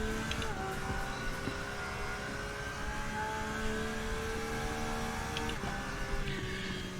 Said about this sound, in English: listen to the car sound